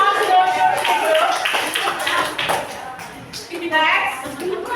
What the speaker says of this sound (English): applause to your group